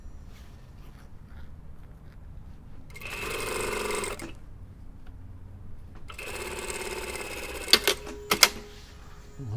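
A sewing machine runs two bursts of rapid, steady stitching along the shoulder seam of a lined jacket, close and clear, separated by a quiet pause, with a few sharp clicks toward the end.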